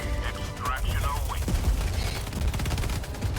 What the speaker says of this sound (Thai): ยิงมันยิงมัน